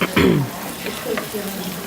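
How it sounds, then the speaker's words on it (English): Onions sauté in a hot pan with a soft continuous sizzle and some stirring, while a voice talks briefly over it at the start. "she's going to saute her onions here"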